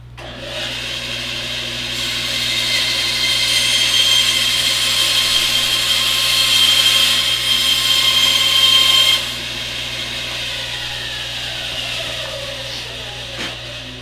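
A bandsaw cuts through 1-inch pipe with a steady whine and grinding hum that builds, holds loud for several seconds, then drops back to the idling motor.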